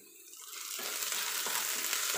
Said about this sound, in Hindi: प्याज हमारा लाइट ब्राउन हो गया है, अब इसमें हम डालेंगे थोड़ा सा अदरक